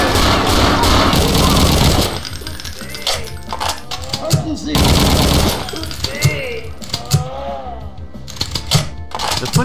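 Automatic gunfire from the SCG-44 and other weapons in the shooter game Brutal Wolfenstein comes in loud, dense bursts with metallic clatter. A long burst at the start is followed by shorter volleys and scattered single shots.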